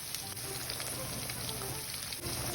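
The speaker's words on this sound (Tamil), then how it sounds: "வாழைக்காயை நாம் நல்லா எண்ணெயில் போட்டு நல்லா ப்ரௌன் கலராக ஆகுற வரைக்கும் ஃப்ரை பண்ணி எடுத்துக்கணும்" Raw banana (vazhakkai) pieces fry in oil with a faint, steady crackling hiss that holds evenly throughout.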